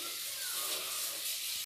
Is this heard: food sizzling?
yes